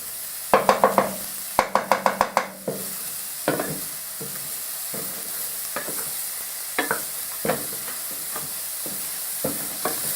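Garlic fries in a pan under a constant sizzle, with quick bursts of scraping and clacking as it is stirred, rapid clusters early on, then sparser strokes.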